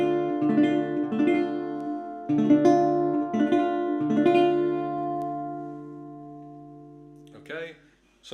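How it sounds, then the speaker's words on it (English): A guitar chord played with a capo, strummed from the fifth string and repeated three times, each ringing out and fading before a brief shift of hand noise at the end; part of a song. "Strumming it from the 5th string."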